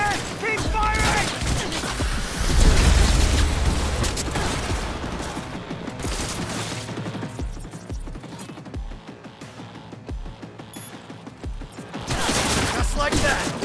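Rapid bursts of gunfire in a shooter video game, dense crackling volleys and single sharp shots alongside impacts, with excited voices talking over the shooting throughout.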